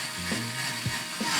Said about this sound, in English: And we secure them down with the 4 screws.